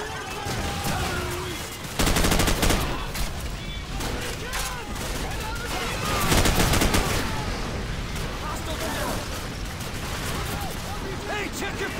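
Dense, continuous gunfire and explosions from the video game Call of Duty 4: Modern Warfare, with loud rapid bursts through most of the stretch and heavier blasts near the start and midway.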